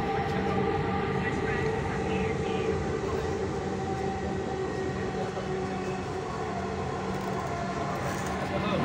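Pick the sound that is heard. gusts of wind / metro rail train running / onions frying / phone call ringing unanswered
metro rail train running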